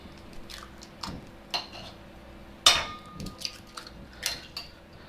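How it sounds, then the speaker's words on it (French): Eggs cracked into a bowl while making chocolate lava cake, heard as a handful of brief, sharp taps and clicks spread across a quiet kitchen, with one louder crack near the middle. "Casser les œufs."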